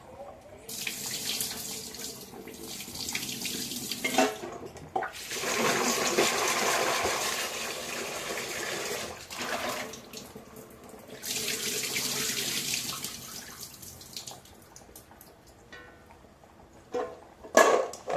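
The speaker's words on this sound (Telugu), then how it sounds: "ఒక ఫైవ్ మినిట్స్ నాననిచ్చి రుద్ది కడగాలి బాగా" Raw tamarind pods rinsed under a running kitchen tap, with steady water flow in long stretches broken by brief pauses and small clinks near the end.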